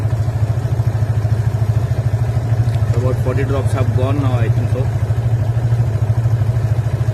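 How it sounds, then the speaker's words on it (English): A motorcycle engine idles in gear with its rear wheel spinning freely on a stand, making a steady, loud low drone throughout while someone talks over it. "And start the engine, put it in gear and let the wheel rotate."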